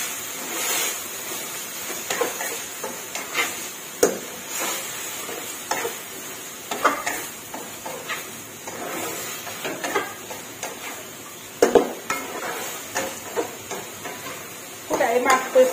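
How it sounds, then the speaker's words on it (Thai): Pork belly with lemongrass being stir-fried in a pan, a steady sizzle broken by scraping stirs and occasional clanks of the spatula against the pan, with speech heard at moments over the cooking. "ผัดให้เข้ากัน"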